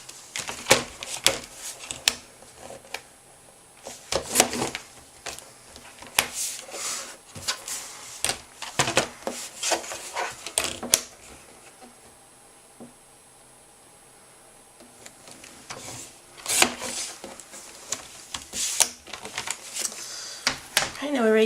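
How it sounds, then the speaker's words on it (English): Paper trimmer cutting card stock during greeting card making, heard as repeated sharp slicing and clacking strokes in uneven bursts, fairly close, with a quieter pause midway. "I'm going to cut it out again with using our paper trimming buddy."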